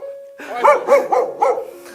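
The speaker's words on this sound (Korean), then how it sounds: "지금 꼬리 흔들면서 짖고 있어요" A nervous dog at a remodeled countryside house barks four times in quick succession, close and clear, after a brief quiet hum.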